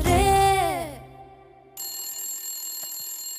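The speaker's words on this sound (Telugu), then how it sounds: "ఏ శైలు ఫోన్ రా, మాట్లాడు." A telephone rings loudly in a Telugu comedy scene, a bright electronic trill with a falling sweep that stops after about a second, then a steady high electronic tone resumes and holds to the end; nobody speaks.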